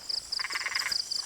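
Frogs croak at a rural pond in the hills, a fairly close chorus of rapid, rattling pulsed calls repeating in quick bursts, with no voices.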